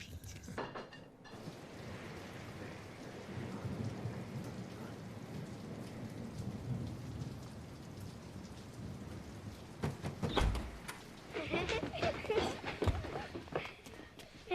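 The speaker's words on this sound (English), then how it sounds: "It's raining in the tent." Steady rain patters and drums across a close tent surface, with a low rumble of thunder and brief sharp bursts near the end.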